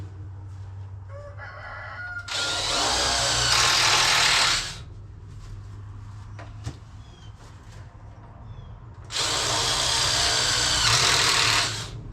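A power drill drives and countersinks a screw into an upright wooden piece while setting up a chicken coop, two loud close whirring bursts of a few seconds each, with a rooster crowing nearby.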